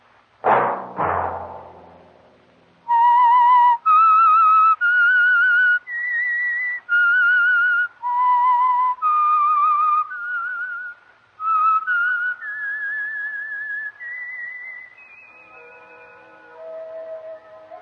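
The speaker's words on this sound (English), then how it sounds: "Let that whistle be your signal for the Signal Oil program, The Whistler" A lone whistler carries the theme tune of The Whistler radio mystery program, a clear slow melody of held and gliding notes after a brief opening thump, with no talk.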